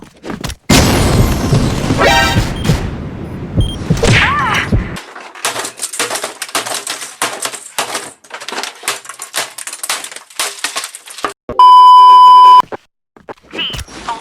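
A planted bomb in a first-person shooter game gives a loud steady electronic beep lasting about a second, following a run of booms, thuds and gunfire.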